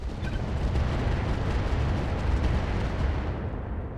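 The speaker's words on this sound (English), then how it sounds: "we're going to fire on this Black Knight with the Madcap Mark II" Heavy mech weapons fire from a Madcap Mark II striking a Black Knight in the RogueTech game: a sustained, loud rumbling barrage of booming impacts that holds steady for about three seconds, then fades.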